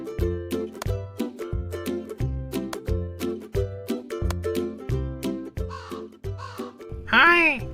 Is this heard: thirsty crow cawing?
yes